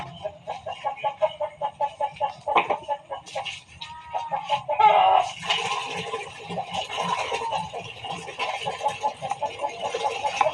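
Chickens cluck in a steady run of short, pulsing calls, fairly close, with a busy flock murmuring behind them and no one talking.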